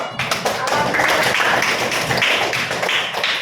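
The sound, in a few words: class applause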